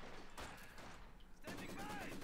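Fireworks being set off outdoors, heard as muffled crackling bursts in two clusters with a short gap between them, faint and in the distance, while a person talks close by.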